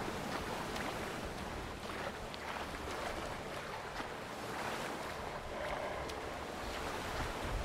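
Steady wash of ocean waves and wind around a moving boat in the video game The Witcher 3, constant and fairly quiet with no voices.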